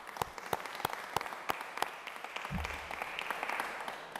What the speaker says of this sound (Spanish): vais a tener un aplauso porque os portáis de maravilla